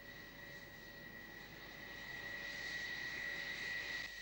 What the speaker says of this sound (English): As usual, there are aircraft coming in from all over the world.